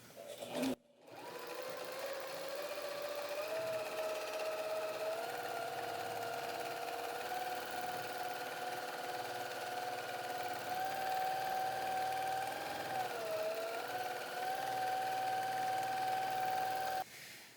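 A home sewing machine runs steadily while free-motion quilting a meandering stitch near the edge of a quilt. It hums and whirs loud and close, with shifting speed and pitch, almost unbroken after a brief start.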